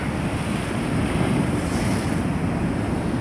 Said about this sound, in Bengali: অনেক বড় বড় ঢেউ, অনেক বড় বড় ঢেউ আসছে বন্ধুরা।